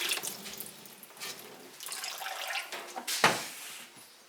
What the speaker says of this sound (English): Just going to rinse my hands.